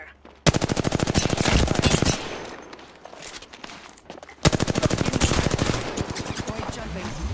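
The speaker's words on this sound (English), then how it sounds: "Contact. Being shot at." Automatic gunfire rattles in a video game as the player comes under fire, two long loud bursts of rapid shots separated by a short lull.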